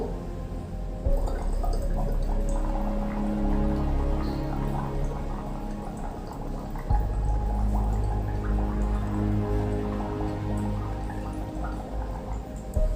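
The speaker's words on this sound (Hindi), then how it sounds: "ऐसे कुछ देर तक आपको इसमें फूंकना है" A person blows steadily through a straw into a glass of water as a lung exercise, producing continuous bubbling and gurgling that runs close and fairly loud for the whole stretch.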